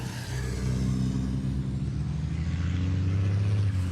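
MAN racing truck accelerating back onto the circuit during 2022 qualifying, a loud, steady low engine drone with rising harmonics that holds throughout, no talk over it.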